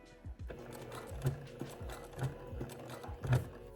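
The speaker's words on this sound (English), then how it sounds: "I'm gonna do a couple back stitches, come forward" A sewing machine stitches quilt binding with a steady, quiet mechanical whir and soft repeating clicks, heard alone with no talking.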